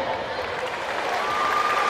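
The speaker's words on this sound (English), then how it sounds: "تصفيق حارة" Audience applause fills a taekwondo championship final hall, a steady broad wash of clapping with crowd noise that swells slightly toward the end.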